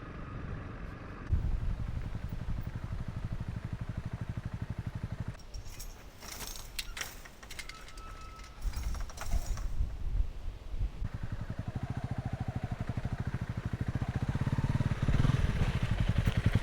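A Honda CRF 300 Rally motorcycle works through a farm gate, its engine rumbling low and steady throughout while metallic clatter and jangling rise and fall in the middle.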